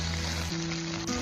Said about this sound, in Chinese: 刚下锅时，鸡皮朝下，开中小火给它慢慢煎。